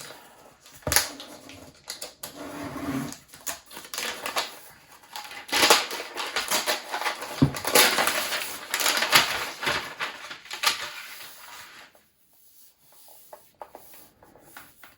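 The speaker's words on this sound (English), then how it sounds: "let's unwrap the MacBook Pro" Packaging on a 14-inch 2021 MacBook Pro is unwrapped, with loud close crinkling, tearing and rubbing of plastic and paper in uneven bursts that fade to near quiet toward the end, with no talking.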